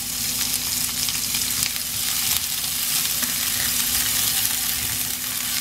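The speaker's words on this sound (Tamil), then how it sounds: "இந்த வெங்காயம் வதங்கிட்டு இருக்கு" Onions sautéing in a hot pan for mushroom dosa, giving a steady, loud, close sizzle that holds without a break.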